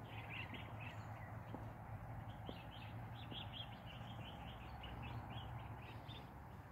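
Small birds chirp and tweet repeatedly in a quiet garden, steady light calls over a soft background hum, with no voices.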